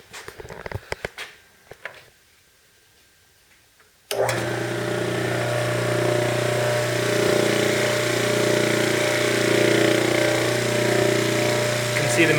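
Homemade tumbler with a 3-inch aluminum drum weighted eccentrically with steel, starting up after a quiet moment with a few knocks, then a loud, steady mechanical whir and rattle of media churning in a moving bucket.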